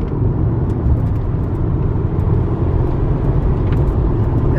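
A WR Blue Subaru Impreza turbo with four-wheel drive, four-wheel independent suspension, gold Rays wheels and Continental tyres cruises along. It gives a steady, loud, low rumble of road and engine noise heard from inside the car.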